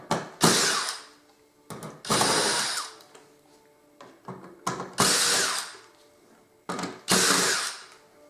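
A power drill fitted with a small screw bit drives screws out of scrap, with short, loud whirring bursts, some ratcheting, separated by pauses and small clicks.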